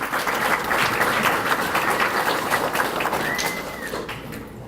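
Banquet audience applauding at a memorial awards dinner, full crowd clapping that holds steady and loud, with a brief rising whistle near the end before the clapping thins out.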